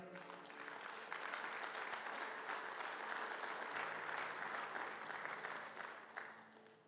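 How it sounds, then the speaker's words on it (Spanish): A church congregation gives a sustained round of applause that lasts about six seconds at fairly low volume, then tapers off at the end. "Fuerte ese aplauso para Él."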